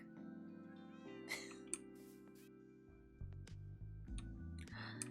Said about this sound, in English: Don't mind me, just taking my cats out for a walk.